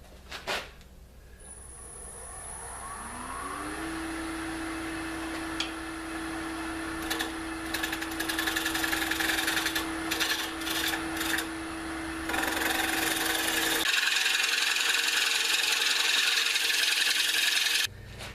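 A wood lathe spins as a tenon is cut on the bottom of a bowl, a steady motor hum under continuous rasping tool contact that grows louder and harsher in the final seconds before cutting out.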